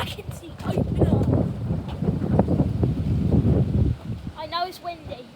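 Strong wind buffets the microphone on the coast at Pancake Rocks, a continuous loud low roar with gusts, easing toward the end as a faint voice comes through.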